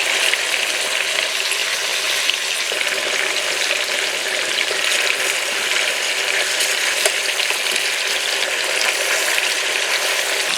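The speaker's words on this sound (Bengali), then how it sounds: "মশলা থেকে চিকেনগুলো তুলে তেলে ভেজে নেব।" Chicken pieces, taken from their spice marinade, fry in hot oil with a steady, dense sizzle that stays loud and even throughout, with no talking.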